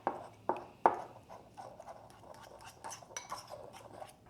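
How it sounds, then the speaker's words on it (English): A fork mashes softened butter with rub, garlic and shallot in a bowl, giving a few sharp clinks against the dish followed by soft, quiet scraping and tapping. "Use a fork to combine these all together."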